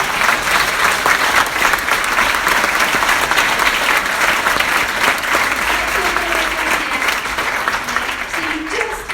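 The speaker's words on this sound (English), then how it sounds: "Let's give a round of applause for that." Steady, dense applause from a live concert audience, sustained throughout with no breaks, loud and close.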